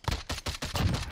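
Rapid bursts of DMR rifle gunfire in the Warzone video game, about six sharp, loud shots in quick rhythm with short gaps, heard alone without talk.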